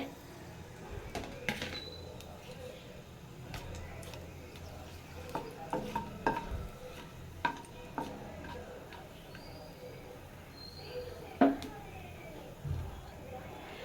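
Cardamom, bay leaves and cinnamon crackle and sizzle in hot oil, with steady frying, scattered clicks and the clink of a utensil against the pan.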